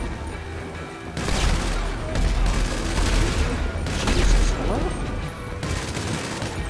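Bursts of rapid gunfire in Grand Theft Auto 5 Online, loud and dense with brief lulls between volleys, with a voice talking faintly underneath.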